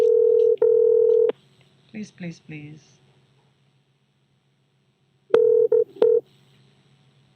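Touch-tone telephone dialing beeps on a radio morning show call: a long steady tone, short warbling dial tones, then a quick burst of keypad beeps, with brief pleading speech in between.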